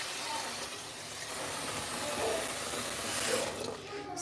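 A pot filler faucet runs water into a cooking pot in a home kitchen, giving a continuous rushing, splashing stream up close that shifts slightly in tone as the pot fills.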